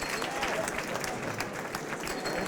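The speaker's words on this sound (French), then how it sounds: "On applaudit bien fort." Warm, sustained applause from a crowd greeting a performer, dense and even, with faint voices mixed in.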